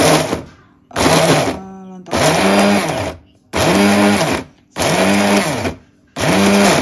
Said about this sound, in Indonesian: Kita akan blender dulu.